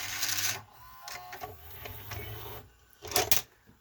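A 1984 Toshiba Beta VCR, model V-S443C, goes into rewind, with close whirring motor and mechanical clunks coming in short bursts and pauses, ending in a louder clatter.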